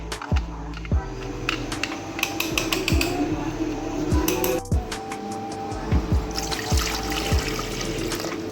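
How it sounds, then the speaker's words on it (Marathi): Water is poured into a vessel of spicy pani puri paste in a home kitchen, a trickling, splashing stream with repeated clinks and knocks of utensils against the pot at close range. "पाणी टाकलं पहिले"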